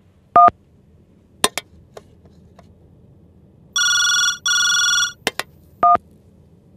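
A telephone rings in two short electronic bursts, loud and close, set among scattered beeps and sharp clicks in an otherwise quiet room.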